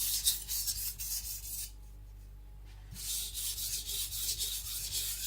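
Gyuto kitchen knife, a Shibata Kotetsu, rubbed against a coarse Shapton Pro 220 whetstone while the bevel is blended: close, steady rasping strokes that pause briefly mid-way, with no talking.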